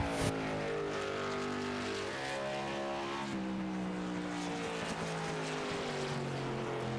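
A race car in IROC-style green and white livery roars through a qualifying lap at Richmond speedway, a sustained engine howl with shifting pitch, loud and steady throughout.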